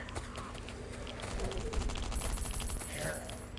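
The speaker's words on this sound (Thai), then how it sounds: "อันนี้ผมก็เอาปืนกลเบามานะครับ" Light machine gun firing in the mobile survival game Last Island of Survival, a dense stream of rapid automatic shots running steadily at moderate loudness over low game rumble.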